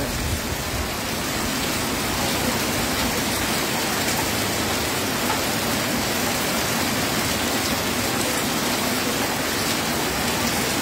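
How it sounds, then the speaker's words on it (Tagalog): Heavy rain pours down in a dense, continuous hiss, loud and unbroken throughout. "Ang lakas ng ulan, correct."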